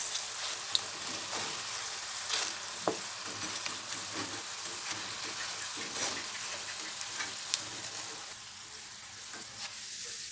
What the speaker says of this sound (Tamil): சலசலன்னு சவுண்ட் கேட்கும் பாருங்கள்